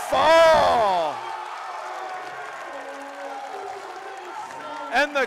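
Spectators at an NCAA Division III college wrestling dual meet between Alma and Adrian erupt after a pin fall: a loud swooping whoop rises over the crowd, then settles into a steady roar. Brief voices break in near the end.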